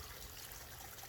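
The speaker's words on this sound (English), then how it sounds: "put in 2 waterfalls" Water trickles and splashes steadily from a backyard pond waterfall, a soft continuous outdoor wash with no voices.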